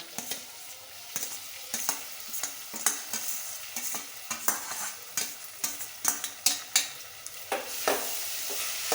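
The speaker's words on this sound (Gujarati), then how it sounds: "સાબુદાણા એડ કરીને આપણે થોડી વાર એને હલાવશું હળવા હાથે" Soaked sago pearls (sabudana) stirred in hot oil for farali khichdi: soft continuous sizzle broken by repeated scraping strokes of a spoon in the pan at an irregular, unhurried rhythm, close and moderately loud.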